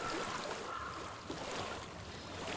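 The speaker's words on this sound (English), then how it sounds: "I hear water." Flowing water in Hellblade: Senua's Sacrifice as a steady, faint rushing wash, continuous and even, with no voices over it.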